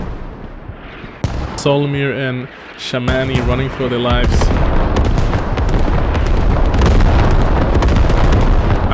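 In the video game Squad, artillery and explosions go off in a combat round, starting with several sharp booms and building into a dense, continuous barrage of rumbling blasts, while someone talks over the first part.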